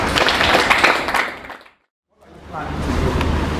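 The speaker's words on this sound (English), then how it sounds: "Please give yourselves a round of applause." Bootcamp session audience applauding themselves: dense, loud applause that fades out, breaks for a brief silence, then swells again.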